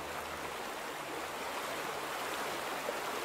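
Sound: flowing stream water in video game The Vanishing of Ethan Carter

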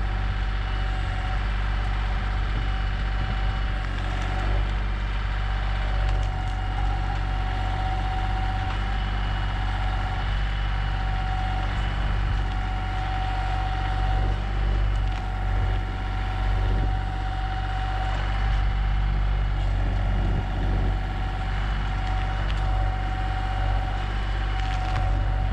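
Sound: tractor moving big tree stumps

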